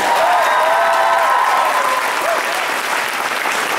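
A convention opening ceremony audience at Kitacon 2012 claps loudly and continuously, a thick wash of applause with a brief voice or whoop near the start.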